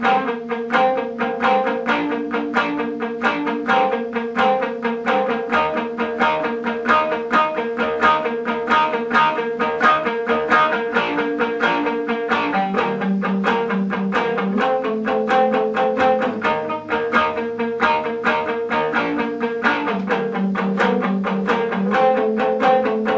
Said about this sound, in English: The lead guitar part in the first verse sounds like this.